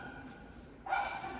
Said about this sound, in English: really excuse the dog, those small tiny dogs that are more like toys than dogs